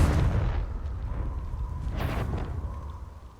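A Confringo fire spell explodes in Hogwarts Legacy, a deep rumbling boom that decays over a few seconds, with a second burst partway through.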